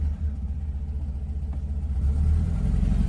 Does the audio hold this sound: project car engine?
yes